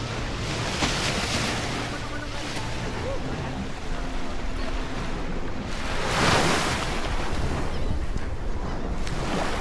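Ocean surf washing steadily onto a beach at Half Moon Cay in the Bahamas, with constant wind rush and a larger wave swelling briefly, no voices.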